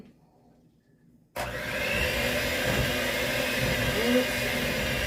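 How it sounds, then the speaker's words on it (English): An electric hand mixer starts abruptly and runs steadily, whirring loudly through pineapple cake batter made from two ingredients, close up and continuous to the end. "I kind of want to do the mixer just to make sure it gets all good and mixed up."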